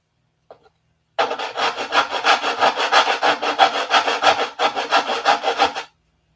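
Sandpaper worked by hand across a wing rib of a P-47 model airplane, a close, steady run of rapid back-and-forth scrubbing strokes lasting several seconds after a brief tap, with no talking.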